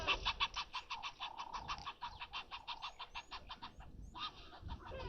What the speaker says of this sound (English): Now I can hear some birds alarming.